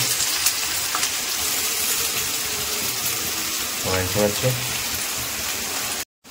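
Steady rain hisses and splashes outside throughout, loud and close, while a voice speaks briefly partway through.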